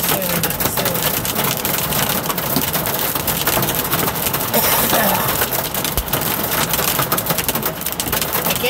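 Hail pelting down steadily on a road under repair, a dense, loud, continuous rattle with scattered sharper impacts across the whole span and no voices.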